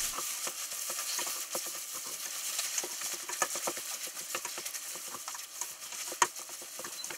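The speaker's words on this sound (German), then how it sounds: "Und das natürlich bei hoher Hitze. Und das heißt natürlich, das Tomatenmark wird am Boden ansetzen." Tomato paste fries over high heat, catching on the bottom of the pan: a dense, crackling sizzle spattering rapidly and steadily up close, with a single sharper pop near the end.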